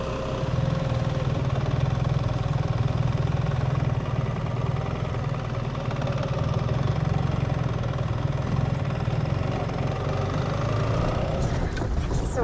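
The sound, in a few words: motorbike engine while riding a road in Laos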